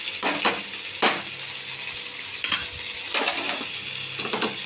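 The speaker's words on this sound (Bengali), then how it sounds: "এবার আমি ডালটা ঢেলে দেবো।" Mung dal poured into a pan of oil with fried shrimp and ginger, a soft sizzle broken by several sharp scraping and clattering bursts from the pan and utensil.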